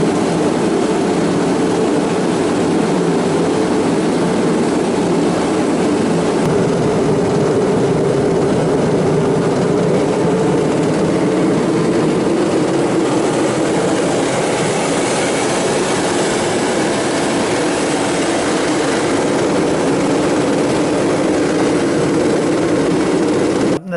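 A kerosene heater bought at Canadian Tire, burning about 15 liters of fuel, roars steadily up close while preheating a Piper Cherokee aircraft engine, a constant broad rushing drone with no talk.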